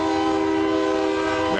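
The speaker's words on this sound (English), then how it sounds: "we get another train whistle just for Tutu" A passing train blows a long, loud, sustained horn nearby, a steady chord that holds throughout, with rail rumble beneath it, ending in a brief shift at the close.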